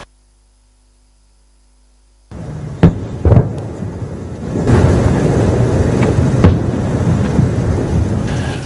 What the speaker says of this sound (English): Northern Gaza was shaken by huge explosions